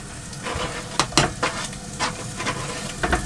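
Chopped bacon frying in a pan with onion and garlic in a small narrowboat kitchen, a steady close sizzle with several sharp crackles and stirring scrapes standing out.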